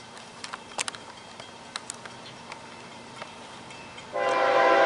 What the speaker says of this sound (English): Here comes another train. Southbound by Micro.